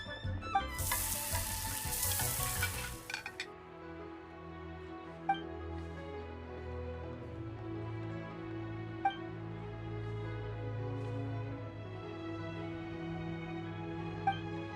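Food sizzles loudly in a hot pan during cooking in Genshin Impact, a burst of frying at the start giving way to gentle game music with occasional soft chimes.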